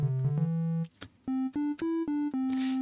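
Wavetable synth notes played from a computer keyboard: a run of sustained harmonic tones, first a longer held low note, then a brief gap and several short separated notes stepping up and down, clear and alone.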